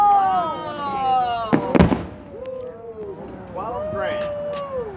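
Fourth of July fireworks seen from a back deck in 2017, with sharp bursts and crackling pops in the middle among whistling rising and falling tones, and people talking and exclaiming throughout.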